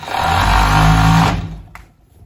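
A sewing machine stitches a sweatshirt in one loud, steady whirring run close by, then stops and leaves a brief quiet tail.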